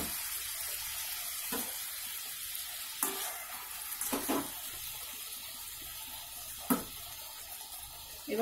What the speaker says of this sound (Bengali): এবার এর মধ্যে দিয়ে দিচ্ছি আমাদের ভাজা মাছগুলো।